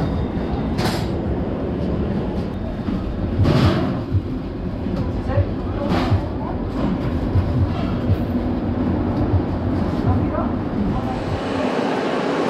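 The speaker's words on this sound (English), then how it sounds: "welcome to a very busy and very noisy Berlin Hauptbahnhof" Loud, continuous din of Berlin Hauptbahnhof: rumbling rail traffic and crowd murmur throughout, with a few brief sharp squeals and announcements in the background.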